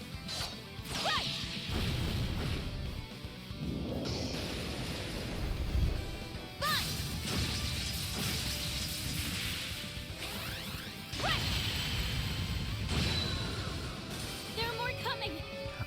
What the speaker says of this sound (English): I love the exploding kunai. I love like the chain claws she's got going down and like diving down towards the enemy.